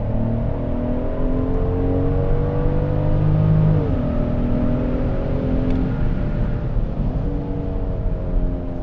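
A Genesis GV70 with a 3.5T engine revving hard at high RPM on the road, steady loud engine drone rising in pitch with clear drops at gear shifts, heard from inside the car without talk.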